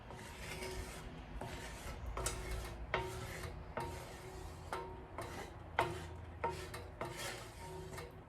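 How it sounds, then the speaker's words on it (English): A spatula scrapes and rubs across a pan, spreading cooking oil before vegan pancakes, in repeated rasping strokes with a steady rhythm, close and moderately loud. "I like to use a spatula to spread it out, stop the pancakes from sticking to the pan."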